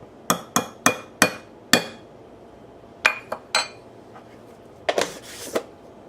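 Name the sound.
whisking cornstarch mixture in a bowl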